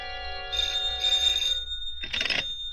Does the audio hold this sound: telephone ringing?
yes